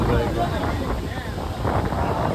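Wind blowing steadily across an open, cool outdoor spot where people gather, with a constant rushing roar buffeting the microphone for the whole stretch and no clear voices.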